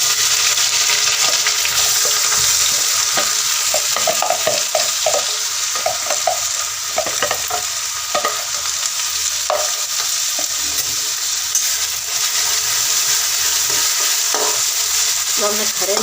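Ground onion paste goes into hot oil with whole spices for chole, sizzling and frying steadily and loudly, with scattered stirring scrapes and clinks against the pan.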